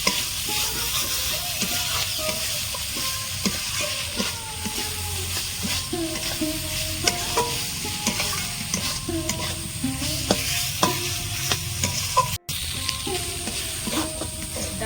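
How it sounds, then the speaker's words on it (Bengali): Lentils frying and being stirred into a gravy for a Bengali vegetarian pointed gourd dish, a steady close sizzle with frequent spoon scrapes and knocks against the pan, no talking. "ডালগুলো আমি দিয়ে দিয়েছি এই গ্রেভির সাথে ভালো করে কষিয়ে নেব"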